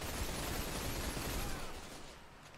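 Gunfire from the online shooter game Line of Sight, in closed beta, comes as a dense, continuous burst of rapid shots that blur into a loud roar and then ease off slightly.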